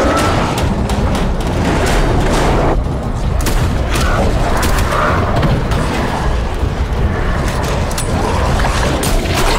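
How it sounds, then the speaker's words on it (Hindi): Heavy gunfire in a dubbed film action scene, dense and continuous loud shots and booms packed together, with a brief voice shouting under the din. "गोली चलाओ"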